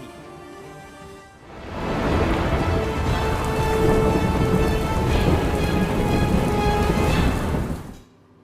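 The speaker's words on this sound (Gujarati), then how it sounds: "ચોમાસાએ ધોધમાર મહેર વરસાવી." Heavy monsoon downpour in Gujarat, a dense roaring hiss of rain that swells in after a quiet start, holds loud and steady, then cuts off abruptly near the end.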